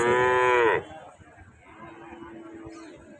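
A young bull calf at a calf cattle market lets out one loud, close moo lasting under a second, followed by quieter background market murmur and a faint distant tone.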